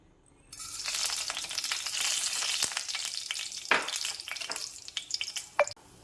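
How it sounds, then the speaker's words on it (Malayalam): Fennel seeds and black pepper dropped into hot coconut oil in a small wok, giving a sudden steady frying sizzle, with a few sharp spatter pops near the end. "ഇനി പെരിഞ്ചീരകവും കുരുമുളകവും കൂടി ഇട്ട് കൊടുക്കാം"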